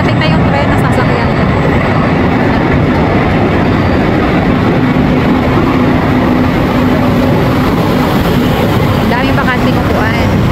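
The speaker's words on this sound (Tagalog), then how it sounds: "Parating na yung tren na sasakyan." A metro train pulls into a station, its steady rumble and rolling wheel noise filling the platform at close range for the whole stretch, with faint voices mixed in beneath.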